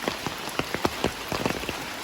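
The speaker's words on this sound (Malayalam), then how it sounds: "മഴ നല്ല രീതിയിൽ പെയ്യുന്നുണ്ട്" Heavy rain falling on a muddy path, a dense close hiss broken by frequent sharp drop impacts landing in irregular bursts, loud and alone with no voices.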